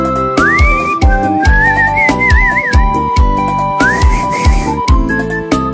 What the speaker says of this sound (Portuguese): Eu só lembro de assobiar quando eu ouvo ela.